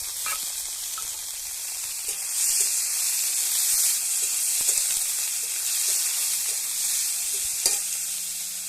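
Small diced potatoes frying in a pan, a steady bright sizzle with occasional stirring scrapes and soft knocks throughout, close and continuous with no voices.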